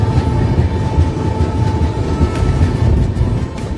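A train runs into Chakulia station in Jharkhand, a loud steady rumble of wheels and carriages with faint rhythmic clatter, close by and continuous.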